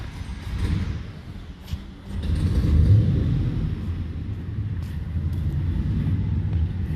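A 1963 Chevrolet Corvette, newly delivered, is driven on a cold day with a manual clutch; its engine gives a low rumble that swells after a couple of seconds and then holds steady.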